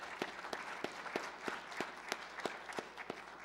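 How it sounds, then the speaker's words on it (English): Audience applause closing a panel discussion on health effects of fine particles from vehicle emissions, heard as faint, steady, evenly spaced claps that carry on throughout without any talk. "let's give our panelists a good round of applause here"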